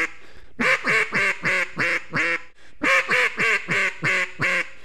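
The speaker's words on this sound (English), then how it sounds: "So that just gives you an idea what the comeback call sounds like." Two series of loud, rhythmic duck quacks blown on an Illusion MiniMag duck call as a comeback call, six or seven evenly spaced quacks per series with a short pause between.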